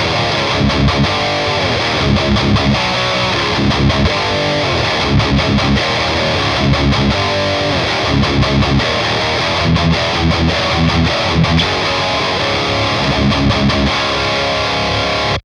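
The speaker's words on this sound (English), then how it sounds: "I'm playing it through the Synergy SYN20IR with the Bogner Uberschall module in it. Sounds very tight and aggressive with plenty of gain." An ESP LTD RZK-III electric guitar played through a Synergy SYN20IR preamp loaded with a Bogner Uberschall module, giving tight, aggressive high-gain distortion in dense chugging riffs with sharp palm-muted stops, loud and continuous throughout.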